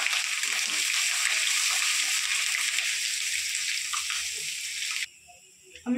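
Chopped ginger sizzles in hot oil with whole cumin, garam masala and dried chillies, a loud, steady hiss with soft stirring scrapes that cuts off abruptly near the end, leaving faint clatter.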